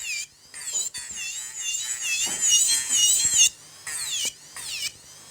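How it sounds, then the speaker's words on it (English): An electric nail drill files gel-polished nails, giving a thin high-pitched whine that wavers and warbles in pitch, cutting out in short stops and starting again several times, close up and alone. "because I have no control over the drill, that's why it gives me all those funny noises"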